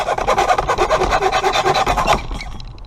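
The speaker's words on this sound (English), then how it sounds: "let's go ahead and cut the metal bracket first. It's easiest to just use a hacksaw." A hacksaw cuts through a metal flooring transition bracket in quick, steady back-and-forth rasping strokes, close and loud, for about two seconds before stopping.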